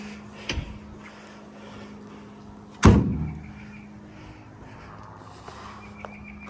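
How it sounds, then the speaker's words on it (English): The hood of a 1981 Puma GTI 1600, a VW-powered car, shuts with one loud, sharp thump and a brief rattle, after a lighter knock and among quiet background noise. "Let's shut the hood."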